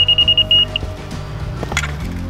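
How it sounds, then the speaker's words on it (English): A laser transit receiver stick on an excavation site gives a quick string of sharp, high beeps, then one longer tone, followed by low rumbling and scraping from the work nearby. "if it doesn't beep, I know we have to dig more out"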